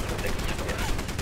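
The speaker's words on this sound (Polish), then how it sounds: "Co tu się dzieje? Czyżby jakieś wybuchy?" Rapid crackling blasts and bursts of gunfire-like noise from the Rogue Warrior video game, a dense, loud, continuous barrage with no clear pause.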